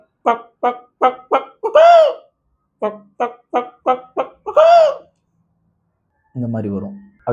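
A voice imitates a hen clucking: a quick run of short clucks ending in a drawn-out call, repeated twice, then a brief spoken bit.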